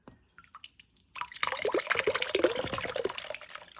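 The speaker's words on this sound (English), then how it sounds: "I'm pouring the mixture, the slurry," Paper pulp slurry poured onto an old beach towel, a close wet splashing and trickling rush that starts after a second of quiet drips and continues steadily.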